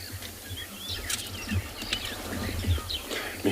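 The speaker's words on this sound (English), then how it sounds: "you must love these birds. They're so cool, you know, especially with the noises that you can hear on the background. This is all communication, early communication." Birds call and chirp at dawn in South African bush during a morning safari, several scattered high calls and tweets over a steady low rumble, with faint distant calls throughout.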